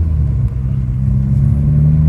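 A turbocharged car with a faulty boost gauge accelerates on a road, its engine giving a loud, steady low rumble that builds slightly and holds throughout.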